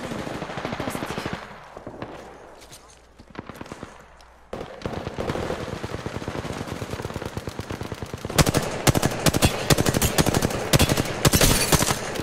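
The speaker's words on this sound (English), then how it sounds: "I am taking fire, friends. Opening fire on the enemy." Rapid automatic gunfire in Apex Legends, loud and near, with sustained bursts that thin out midway and then return in dense, heavy volleys toward the end.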